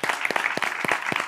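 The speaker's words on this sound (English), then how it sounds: "give yourselves a round of applause" Steady applause from a crowd, many hands clapping continuously at close range with no voices over it.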